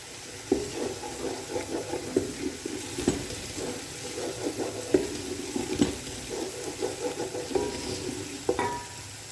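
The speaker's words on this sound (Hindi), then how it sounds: "अब हम इसमें अदरक लहसुन का पेस्ट ऐड कर देंगे और इसको भी अच्छे तरीके से भून लेंगे।" Ginger garlic paste frying in a pan for Saraiki kadhi pakora, a steady close sizzle broken by repeated scraping strokes of a spoon as it is stirred, with no talking.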